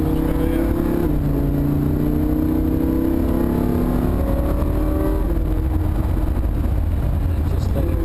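Lamborghini Huracan on a race track, engine note climbing steadily under acceleration from inside the car, loud and continuous with road and wind roar throughout, while a voice speaks intermittently over it.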